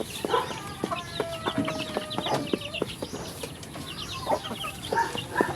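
Several chickens cluck and squawk close by in a busy yard, with a rooster's call mixed into the steady clucking.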